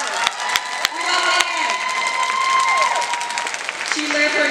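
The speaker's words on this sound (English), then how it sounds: "Give her a round of applause." An audience applauds a sales award winner at a career conference. A few sharp claps open into steady, sustained applause mixed with crowd cheering and voices.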